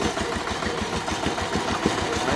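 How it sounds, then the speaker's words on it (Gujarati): A tractor engine runs steadily as it works its way up a climb, a continuous low rumble with a regular throbbing pulse, close and fairly loud, with no talking. "જો અહીંયા ટ્રેક્ટર ચડવાનું છે તે ચોઢે કે નહીં તે જોઈએ"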